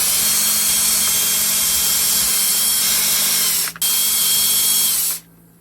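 A power drill whines steadily and loudly up close while taking out the top plate screws of a Redcat Valkyrie RC truck, with one brief break midway before it winds down.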